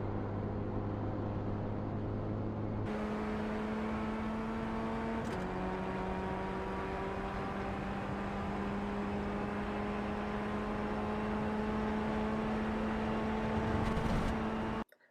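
A Ray FF1600 race car engine in the iRacing game holds full throttle, a loud, steady high-pitched drone that climbs through the revs, with shifts and dips before it suddenly cuts off.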